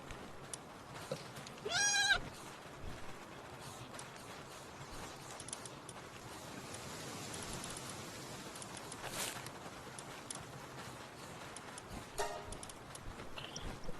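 A sheep-like creature in the video game Palworld gives one short, bright bleat early on, standing out over a steady bed of game ambience and soft clatter.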